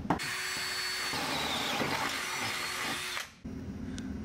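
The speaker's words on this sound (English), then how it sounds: "Now it's time to drill our five mounting holes on each side." A power drill whirs steadily for about three seconds while drilling mounting holes in metal, then stops briefly before a quieter whine resumes.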